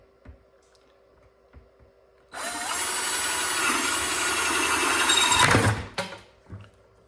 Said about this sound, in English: just find where you want it and drill that hole